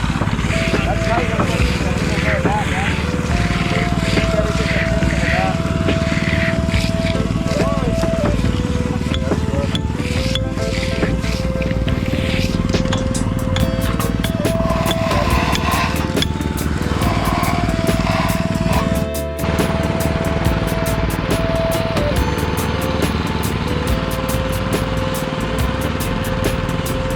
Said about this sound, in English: when you're hitting edges and you got the power trowel running